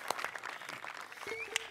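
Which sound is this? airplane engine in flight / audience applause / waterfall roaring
audience applause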